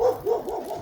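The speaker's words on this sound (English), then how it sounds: "Nice loud dog. Good guard dog." A neighbourhood guard dog barks loudly, giving two or three quick, close barks in under a second.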